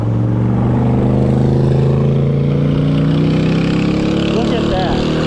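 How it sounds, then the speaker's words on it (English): An old Chevrolet Corvette drives past on the road, its engine droning in a steady loud rumble that slowly shifts pitch as it goes by, with a voice speaking over it. "Nice old Corvette."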